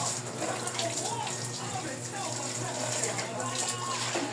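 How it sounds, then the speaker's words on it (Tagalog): Tap water runs steadily while a pet dog is bathed on a hot day, a continuous close wash of splashing flow with a person's voice heard faintly underneath. "Siya sa tubig. Gusto niya maligo."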